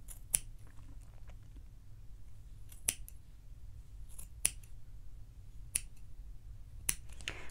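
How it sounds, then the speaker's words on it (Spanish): Scissors snipping through wool yarn strands while making a yarn flower, five crisp, sharp cuts spaced a second or more apart, close and clear over a quiet low room hum. "Lo próximo que vamos a hacer será cortar todas las hebras que están cerradas."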